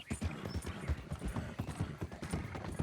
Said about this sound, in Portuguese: Eu adoro o barulho de casco de cavalo, cara, em madeira, no chão mesmo.